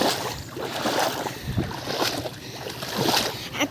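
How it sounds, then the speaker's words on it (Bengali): Water splashes and sloshes around a person wading through deep, muddy water while out fishing, with uneven surges and swishes close by and a breezy outdoor background. "তোমরা একবার জলের আওয়াজটা শোনো, কতটা জল হলে এরম আওয়াজ হয়।"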